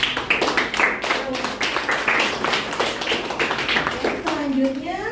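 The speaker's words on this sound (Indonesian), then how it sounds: "Kita beri tepuk tangan buat." Classroom applause for a student, a burst of steady group clapping running a few seconds while a teacher's voice speaks over it.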